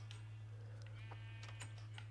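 Sheep bleating in a video game, a couple of faint wavering bleats over a steady low hum and scattered small clicks.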